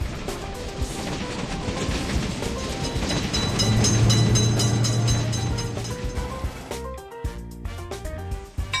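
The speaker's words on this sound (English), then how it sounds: "Attention, train is coming." A train rumbles past a railway level crossing, its heavy rolling noise building to a loud peak midway before easing, with clatter and a sudden drop toward the end.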